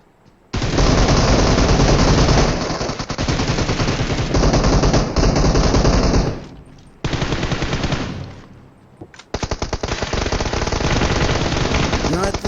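Loud, close bursts of automatic gunfire from a battle royale video game, with long sustained volleys broken by brief pauses and then further rapid firing.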